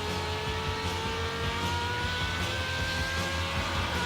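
Superleague Formula race car at Estoril held steady on the throttle in fourth gear, a loud continuous high-pitched engine drone whose pitch climbs gradually, heard close and unbroken throughout with no talking.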